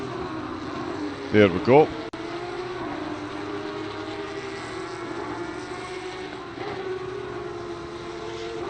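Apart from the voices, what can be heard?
loud racing car engines from a racing video game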